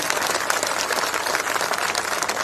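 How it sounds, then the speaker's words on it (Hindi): A political rally crowd breaks into thunderous applause, dense and continuous clapping from many hands filling the space, loud and close with no voices rising above it. "उनके लिए मैं जोरदार तालियों की गड़गड़ाहट से स्वागत चाहता हूं"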